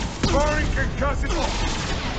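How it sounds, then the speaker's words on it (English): A concussive shot fires in Mass Effect 2, a dense, booming burst of game combat noise that rolls on under overlapping voices for about two seconds. "Firing concussive."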